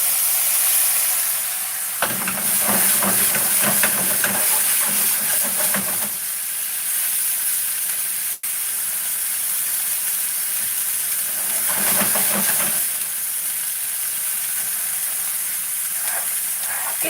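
Food sears in a hot pan at home, a loud continuous hiss with bursts of crackling sizzle that swell and fade, close up and with no talking.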